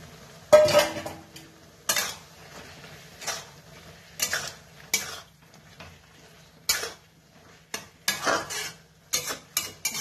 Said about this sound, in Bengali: এবার মটরশুঁটিটা দিয়ে দিচ্ছি।